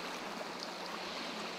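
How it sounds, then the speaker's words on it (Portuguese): A small mountain stream flows at the foot of the Serra da Canastra in Minas Gerais, a soft continuous rushing and trickling that stays fairly quiet and even, with no voices. "Cada cascata, cada pequeno córrego dá sua contribuição importante para formar o Mar de Minas"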